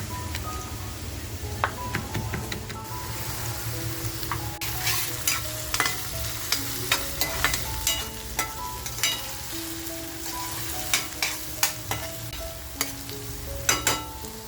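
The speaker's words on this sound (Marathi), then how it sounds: "त्यासुद्धा आपण छान अशा कांद्याबरोबर फ्राय करून घेऊया." Garlic cloves frying with onions in a pan: steady oil sizzle throughout, with repeated scraping and tapping from stirring and occasional metallic pings.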